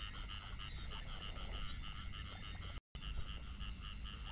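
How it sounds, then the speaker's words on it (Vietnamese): A dense chorus of frogs croaks and trills continuously at night in Mekong Delta rice fields after rain, layered pulsing calls with no voices, cut by a brief moment of silence. "Mấy bạn nghe tiếng nhái kêu ra không?"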